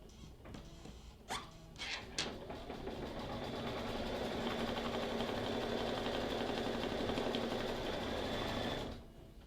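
A Brother embroidery machine runs steadily, stitching gray thread for a cartoon character's hair, its fast needle rhythm humming loud and continuous after a few brief clicks and taps, then stopping abruptly near the end.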